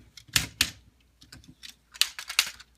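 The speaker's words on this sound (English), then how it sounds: "you got nice tight ratchets on that" Ratchet joints on a TFC Toys Project Prometheus Defensor combiner figure click as a limb is moved, producing quiet clusters of tight plastic clicks in short uneven bursts close up.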